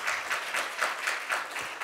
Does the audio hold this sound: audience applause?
yes